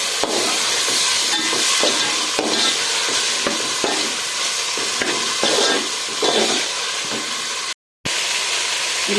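Beef mince frying with onions and garlic paste in a pan, a loud steady sizzle and hiss with regular scraping stir strokes, close up, with a brief dropout near the end.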